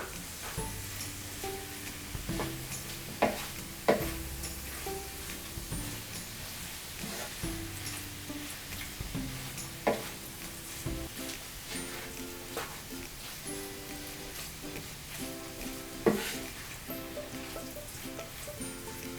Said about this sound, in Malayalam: ചിക്കനുമായിട്ട് മസാലയും ചിക്കനും കൂടി ഫുൾ മിക്സ് ആവണം.